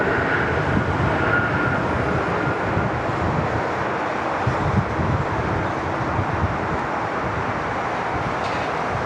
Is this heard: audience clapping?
no